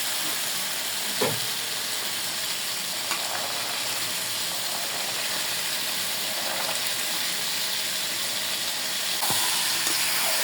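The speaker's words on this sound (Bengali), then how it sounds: "এখন আমি ধৈর্য ধরে সিমের বিচিটা প্রায় 10 মিনিটের মতো কষাই নেব" Bean seeds sauté with chicken in a hot pan, giving a loud, continuous hissing sizzle. A few brief scrapes and stirs come through, with no talk.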